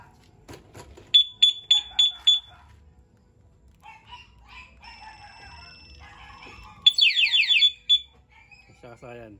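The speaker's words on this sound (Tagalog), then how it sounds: "Papalitan natin yung two-way alarm nya." A Honda Click 125 motorcycle two-way alarm chirps in a quick series of beeps, then warbles with a rapid rising siren-like tone, close by with faint background noise.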